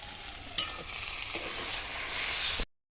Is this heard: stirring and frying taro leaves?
yes